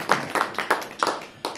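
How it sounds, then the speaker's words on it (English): Rhythmic clapping from a small audience at a Hindu temple talk in Dudley, about five steady beats with a roomy echo, moderately loud. "Big round of applause for Vrindavaniji and Vidya."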